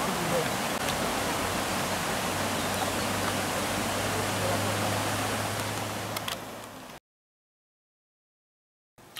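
The Sillans-la-Cascade waterfall roars as a dense, steady rush of falling water with a low hum underneath, then cuts to silence near the end.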